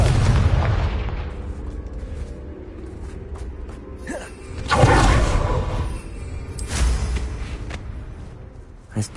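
A Confringo fire spell explodes in Hogwarts Legacy, a low booming blast with a crackling burst near the middle, set over a dense rumbling game ambience with a smaller thump at the end.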